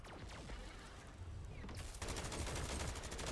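Rapid automatic gunfire in MW3 Zombies starts off with scattered shots and then settles into a dense, continuous burst of fire that grows louder toward the end.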